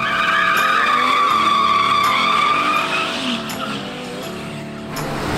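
Tires of a Dodge Challenger 3.6L on Goodyear 245/45ZR20 rubber spin and squeal in a loud, sustained screech with the engine droning beneath, easing off toward the end.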